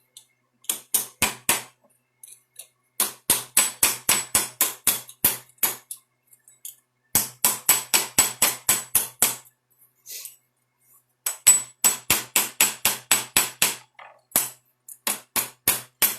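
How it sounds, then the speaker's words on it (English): A hammer strikes metal held in a bench vise for fold forming, bright ringing blows in fast steady runs of eight to twelve, separated by short pauses, close and loud. "I'm just going to hammer"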